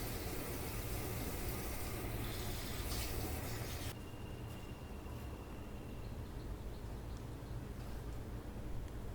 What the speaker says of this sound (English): Now we need to rinse the spices to get rid of any dirt on them.